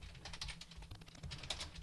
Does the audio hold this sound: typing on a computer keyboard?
yes